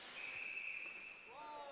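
A referee's whistle sounds at a college club ice hockey game between ASU and UCLA: a sustained shrill blast, then a short second toot, fairly distant over arena background noise.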